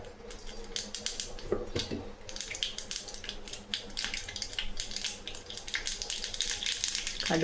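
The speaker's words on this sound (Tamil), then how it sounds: "கடுகு பொரியுது." Mustard seeds splutter in hot oil while tempering for a tomato dal rice, a dense run of fine crackles and sharp pops going on steadily throughout, close and fairly loud.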